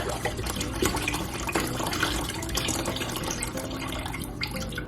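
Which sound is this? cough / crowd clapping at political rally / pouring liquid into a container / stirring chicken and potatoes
pouring liquid into a container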